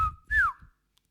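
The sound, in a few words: whistle signal imitated by speaker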